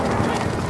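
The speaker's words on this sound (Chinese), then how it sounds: "马蹄声整齐，一定是经过训练的马" Hoofbeats of trained horses approaching in step, a dense, steady clatter filling the short moment with no talk over it.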